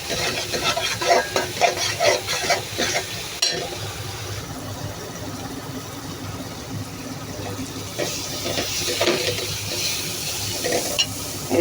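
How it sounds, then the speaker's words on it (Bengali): Shrimp are added to a pan of cooked-down spices, then fried and stirred. Close, loud sizzling is broken by scraping stirs and a sharp clank partway through. "আমি এখন চিংড়ি মাছগুলো দিয়ে দিলাম।"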